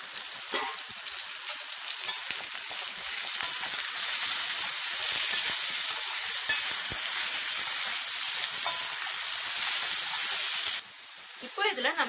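Chopped vegetables and tomatoes frying in a pan for wheat rava upma give a steady, close sizzle with light stirring, then a short quieter patch near the end.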